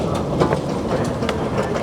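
A passenger train rides into Hong Kong city, its steady rumble and rhythmic clickety-clack of wheels on rail loud and continuous from the onboard, with no talking.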